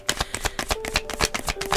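Tarot and oracle cards are shuffled by hand in quick, rhythmic riffles, about a dozen crisp flicks in a row, close and fairly loud with no talking.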